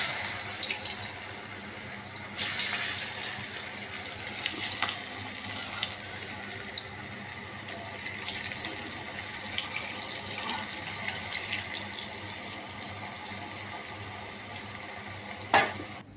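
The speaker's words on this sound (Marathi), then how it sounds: "आता मी तेलात सोडते बघा" Pieces of kothimbir vadi, coriander fritters, fry in hot oil with a soft, continuous bubbling sizzle, faint and steady, with a sharper clatter near the end.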